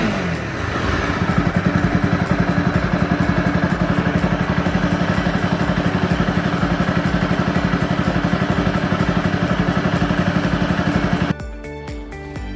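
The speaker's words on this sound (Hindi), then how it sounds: "अब इस एयर फ़िल्टर को लगाने के बाद जो बाइक की इंजन की साउंड है वो बहुत ही बेहतरीन हो जाएगी" A Honda CBR250R fitted with a homemade air filter idles steadily and close by, its single-cylinder engine chugging in an even, rapid pulse for about eleven seconds before cutting off abruptly.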